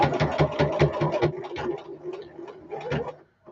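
A domestic sewing machine top-stitching fabric runs in rapid rhythmic bursts for the first second and a half, then slows to scattered, uneven stitches. It returns briefly near the end before stopping. The sound is close and clear, with no talking.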